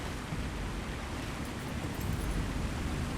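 Steady rushing water roar of a waterfall in the online game Lord of the Rings Online, a continuous dense wash of noise holding at a constant loud level, with no voices.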